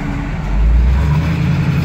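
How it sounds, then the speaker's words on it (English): A 1976 GMC Jimmy truck gives a loud, throaty exhaust rumble, a steady low growl that swells briefly as the engine is revved. "Exhaust is a little throaty."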